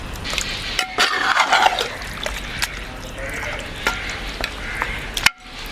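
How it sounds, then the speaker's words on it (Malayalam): Beef bones get stirred through a thick curry gravy in a pot. The scraping and sloshing is wet and close, with a brief sizzle and a sharp knock near the end. "ഇത് ഗ്രേവിയിൽ മുങ്ങുന്ന വിധത്തിൽ നന്നായിട്ട് ഇളക്കി യോജിപ്പിക്കാം."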